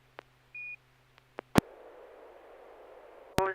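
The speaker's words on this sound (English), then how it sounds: "The repeater did time out. AI6DG. We heard the beep." A radio repeater timeout beep on an amateur radio net: a short steady tone, then a burst of static hiss carrying on until a sharp click and closing squelch tail, all fairly faint.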